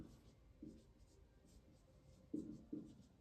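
Chalk or marker writing on a classroom board during a maths lesson on cone area, faint intermittent scratchy strokes with a few louder taps, quiet overall.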